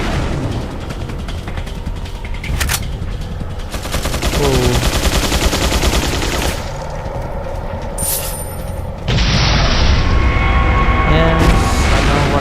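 Bursts of heavy gunfire in the video game Resident Evil 4 (Separate Ways), with loud repeated shots and booms and a big gun rattling off rapid fire, while game music and effects play underneath.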